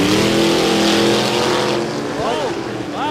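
Drag racing cars at Warwick Dragway during the Nitro on the Downs meet, including Rob Brown's yellow FX Holden, roar loudly and steadily through the run, with a commentator talking over the engines.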